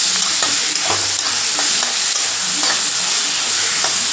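Tomatoes and brinjal, part of an anchovy and brinjal thokku, are stirred in a hot pan, giving loud close sizzling with repeated rhythmic scrapes of the spoon and no talk.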